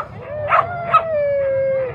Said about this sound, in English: Some dogs are barkers, some dogs are singers,